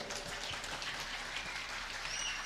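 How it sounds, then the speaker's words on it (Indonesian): Audience applause at an Islamic religious lecture and Q&A session, a steady, fairly distant patter of many hands clapping at once, soft and even throughout. "silakan kasih aplaus untuk Buya Rosi"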